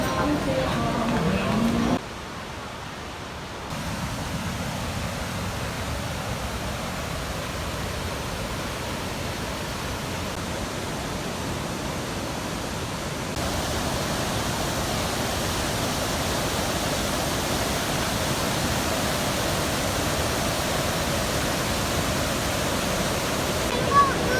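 Steady broadband rush of the Tad Yuang waterfall at Pak Song, Laos, heard close and continuous, growing slightly louder partway through.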